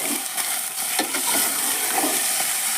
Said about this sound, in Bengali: মাংসটা দিয়ে একটু নাড়ানাড়ি করবো